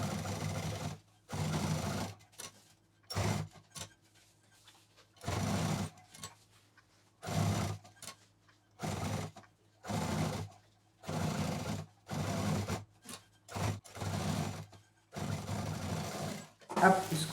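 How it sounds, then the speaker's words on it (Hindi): A sewing machine stitching a cloth shoulder bag runs in repeated short bursts of rapid mechanical whirring, each lasting about a second, separated by quiet pauses, close and clear. "अब यहाँ पर हम एक दाब मशीन चलाएंगे"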